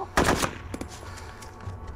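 Gunfire from the survival video game DayZ: a loud burst of two or three rapid shots at the start, followed by fainter scattered reports and game ambience.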